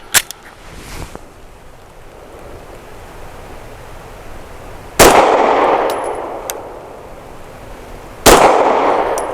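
Two loud, sharp pistol shots of Federal 138 grain Syntec Defense segmented hollow point ammunition from a BUL Armory Axe FS Cleaver ring out several seconds apart, each with a long decaying outdoor echo, after a faint metallic clink.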